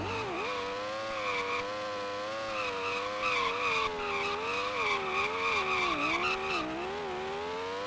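Formula 1 race cars from the Amiga game Microprose Formula 1 Grand Prix: a steady synthesized engine whine rises and falls with gear changes and throttle, loud and continuous, with no talking.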